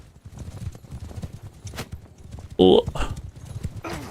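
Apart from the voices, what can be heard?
horses galloping in video game Bannerlord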